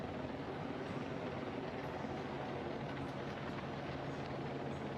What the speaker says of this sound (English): The helicopters have been up